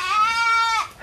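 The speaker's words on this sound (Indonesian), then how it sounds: "Kambingnya nyungsep." A young goat, about three months old, gives one clear, strong, harmonic bleat lasting nearly a second, close to the microphone with no talk around it.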